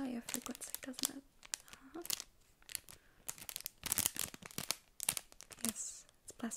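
Close, irregular crinkling of plastic in sharp crackling bursts and pauses, with soft whispered speech between some of the rustles.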